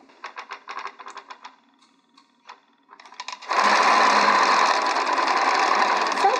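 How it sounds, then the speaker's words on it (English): A Qnique quilting machine sews in short stop-start bursts at first, then runs steadily as a loud continuous whir. "And you just start sewing."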